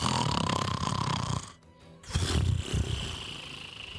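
A voice imitates loud snoring coming from inside a hut in a tabletop fantasy game: rough, growling snore breaths that break off briefly midway and then resume, loud and close.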